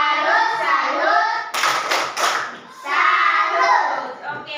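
A group claps a rhythmic salute, a short burst of brisk hand claps between stretches of children's chanting voices, close and fairly loud.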